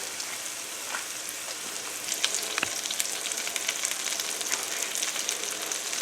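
Hamburger steak patties sizzle and fry steadily in a skillet, a dense, continuous crackle with scattered louder pops, close and alone without talk.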